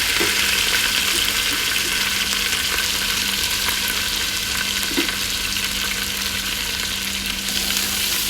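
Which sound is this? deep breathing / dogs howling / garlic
garlic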